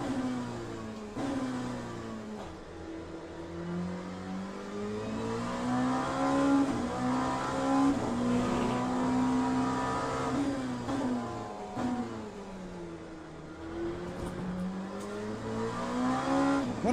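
A GTE race car engine in the racing sim Le Mans Ultimate, at Sebring. It drones continuously with rising and falling revs through upshifts and downshifts, fairly quiet and with no talk.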